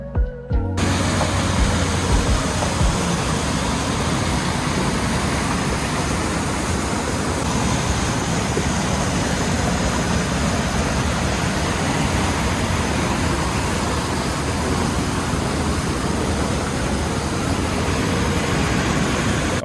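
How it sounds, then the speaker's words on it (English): A small waterfall in the Lake District rushes with a steady, broad roar of falling water. The sound is close and unbroken, with no voices over it. "here's a video of the waterfall"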